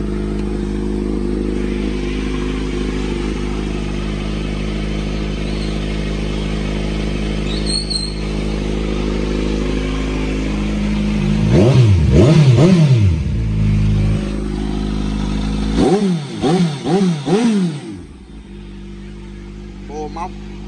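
A motorcycle engine idling with a steady low rumble, then revved in two separate bursts that rise and fall sharply, loud and close, with someone talking over it.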